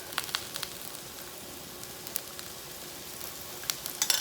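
Masala dosa cooking on a hot pan with drops of oil at the sides, a faint steady sizzle with scattered crackling pops, close and quiet.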